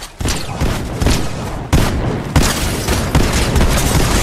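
Fortnite gunfire, a run of loud booming shots and impacts in quick irregular succession, dense and close with little pause between them.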